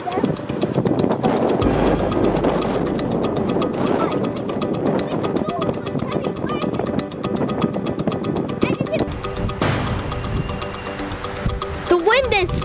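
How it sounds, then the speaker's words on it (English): Strong hurricane wind at Lake Wylie, South Carolina, roaring and buffeting the microphone in heavy continuous gusts, with a voice talking over it throughout. "The wind is so hard that it blew the sign over"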